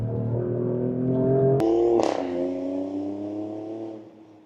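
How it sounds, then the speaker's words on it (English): An Alfa Romeo Stelvio Quadrifoglio SUV with a 500-horsepower engine accelerates hard uphill out of a hairpin bend on a cold, greasy road, its engine note rising strongly, with a quick gear change partway through. "It just gave me every single one of those 500 horsepowers and deployed them perfectly."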